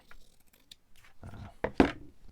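Scissors snip through fabric while making a fabric tag, a couple of crisp close cuts near the end following quieter handling rustle, with a voice faintly in the background.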